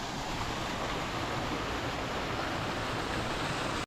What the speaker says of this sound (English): Got a nice little waterfall here.